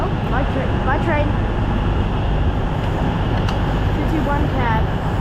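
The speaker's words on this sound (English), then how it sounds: "A fancy West Coast diesel train with actually quite modern cab." A West Coast Main Line diesel train rolls into Milton Keynes Central amid a loud station wash of rumble, rail squeals and engine noise, with people talking nearby.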